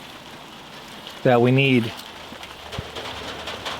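Rain begins to fall on a work area beside a 1958 Volkswagen Beetle, a soft steady patter with a brief spoken question cutting through partway.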